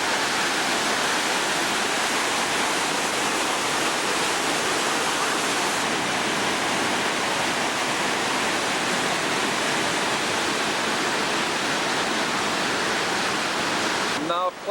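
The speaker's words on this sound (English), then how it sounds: "Lots of water coming over." Rhine Falls waterfall in Switzerland, a huge volume of water pouring over the rocks; a loud, constant broadband roar of rushing water, heard close and continuous with no break.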